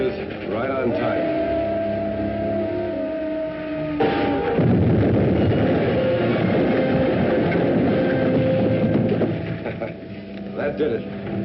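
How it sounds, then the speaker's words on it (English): A steam-era troop train rumbles and clatters along the rails at Kern Pass, a steady mechanical roar that swells partway through, with voices talking over it. "That troop train be along soon."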